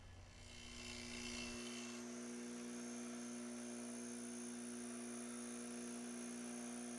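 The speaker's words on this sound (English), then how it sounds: "being able to feel exactly what the stone's telling you about how it's grinding on the chisel edge" A wood chisel edge ground on a spinning grinding stone, starting with a brief gritty rasp, then a steady high whine and hum from the running grinder that carries on alone.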